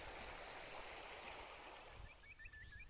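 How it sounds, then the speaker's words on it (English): A babbling brook on open hill ground near Hedgehope in Northumberland flows with a steady close wash of water, and faint bird chirps come in toward the end. "Nice babbling brook, stream,"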